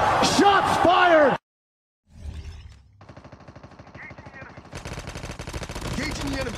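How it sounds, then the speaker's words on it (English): Gunfire in Call of Duty Mobile battle royale gameplay, with rapid automatic bursts that build into sustained rattling fire after a brief silence, loud and close; a voice is heard at the start. "Shots fired! Shots fired!"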